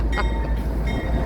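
A CSX freight train led by an AC44CW locomotive with a caboose rolls past on a local run, its steady loud rumble filling the air with faint wheel squeal on top, no voices.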